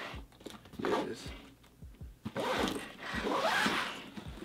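The zipper on a Nomatic camera pack is pulled in several quick rasping strokes, close up, with soft handling thumps between the pulls.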